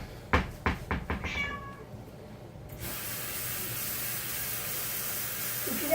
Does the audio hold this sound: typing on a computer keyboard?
no